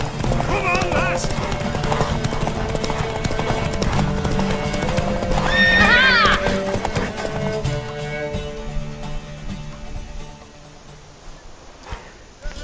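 A horse in the Witcher 3 video game gallops with rapid clip-clop hoofbeats and lets out a loud whinny midway, set against layered game sound that fades toward the end.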